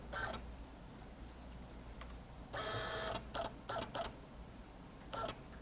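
A receipt printer in pre-sale mode prints a coupon in quick bursts of whirring and chattering, one longer run followed by short clicks and feeds, faint and close against a quiet low hum.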